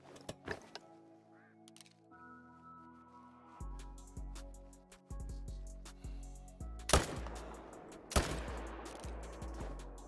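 Hunting rifle fire in The Hunter: Call of the Wild: two loud, sharp reports a second or so apart, ringing out over steady tonal game music.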